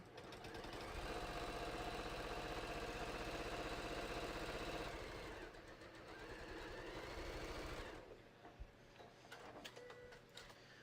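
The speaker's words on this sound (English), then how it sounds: "now I'm going to sew the other diagonal line for my key pocket" A sewing machine runs steadily while stitching a diagonal line across a key pocket on a hiking belt. The loud mechanical whir holds for about five seconds, then continues more quietly before it stops, leaving faint clicks and handling noise.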